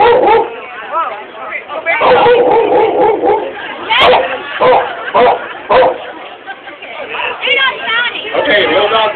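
A woman imitates two dogs, a little one and a big one, with a rapid series of vocal yips, barks and whimpering yelps, loud and close, trading back and forth in bursts.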